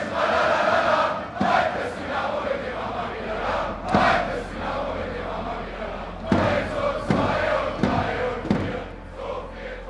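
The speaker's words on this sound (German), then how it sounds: "the crowd keeps singing" Ice hockey crowd in the stands of a Berlin arena singing and chanting in rhythm, a dense roar of massed voices with periodic louder surges and thumps, continuous throughout.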